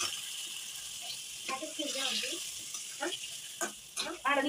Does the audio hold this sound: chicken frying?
yes